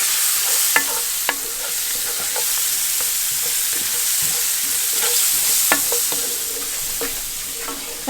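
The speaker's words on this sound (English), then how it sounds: "I'm going to let the frozen peas cook for a couple minutes." Frozen peas thawing with potatoes and spices in a pan for samosa filling, a steady moderate sizzle broken by occasional sharp clicks of a utensil against the pan.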